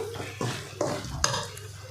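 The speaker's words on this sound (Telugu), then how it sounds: "నేను వేసిన తర్వాత మొత్తం కలిపేసుకుందామండి" A spoon scrapes and stirs chicken roast with spices in a pan, three or four distinct scraping strokes with a faint sizzle underneath, close and moderately loud, no speech.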